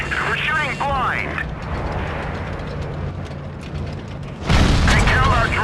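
Explosive impact booms as a tank takes hits in World of Tanks Blitz, with heavy blasts and rumbling mechanical noise, and a voice calling out damage in between.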